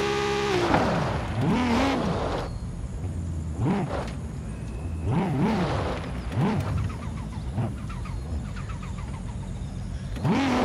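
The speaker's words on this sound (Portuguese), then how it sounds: "A turbinona cantando bonito, ó. Ó, escuta o barulho." A heavily upgraded Audi RS6 turbo engine in Forza Horizon 5 revs repeatedly, each rise and fall of pitch followed by turbo whoosh and flutter, loud and close without talk.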